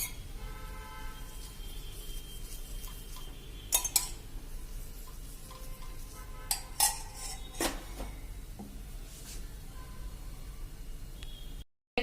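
A wheat-flour lachha masala paratha cooks on a pan while ghee is spread over it, giving scattered metallic clinks and scrapes of a utensil against the pan over a low steady background, with a brief dropout near the end.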